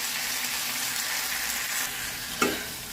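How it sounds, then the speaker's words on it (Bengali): Dried fish (shutki) fries slowly in a pan over low heat, giving a dense, even sizzle throughout with one brief stirring clink near the end. "সবগুলো ভালো করে ভেজে নেব। অল্প আঁচে ভাজতে হবে"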